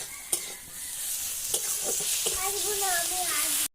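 Tomato, onion and turmeric fry in a pan with a constant close sizzle, broken by a few scraping stirs and a faint voice-like tone near the end before it cuts off.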